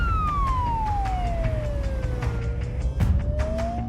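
A wailing ambulance siren runs with lights on while carrying a patient with a fractured leg. The siren sounds loud and close, its pitch sweeping slowly down and rising again over engine rumble, with a brief knock partway through.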